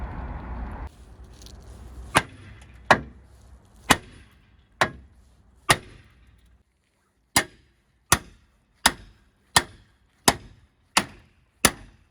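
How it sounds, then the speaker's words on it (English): A hammer bangs on an axle part of a Compact car being repaired after a crash: about a dozen sharp metallic strikes, spaced out at first, then coming faster and more evenly, each ringing briefly in a quiet space. "I will firstly just try to bang it with a hammer and maybe get it back into piece"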